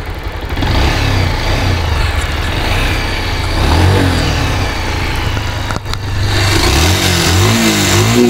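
A 2014 Bajaj Pulsar 150cc motorcycle engine runs close by, a loud, steady mid-pitched thrum that briefly dips near the end and then swells with a few short revs.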